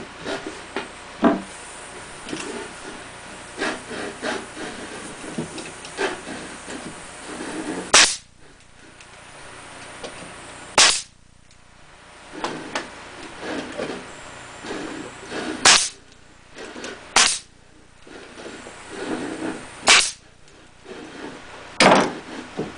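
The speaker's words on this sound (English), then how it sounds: "this is just the DeWalt finish nail gun. And I got 1 and 1/4 inch brads in it." Brad nails from a DeWalt finish nail gun, loaded with 1-1/4 inch brads, shoot into wood for a rabbit nest box, giving about nine sharp, loud pops at irregular intervals with quieter handling and rubbing noises in between.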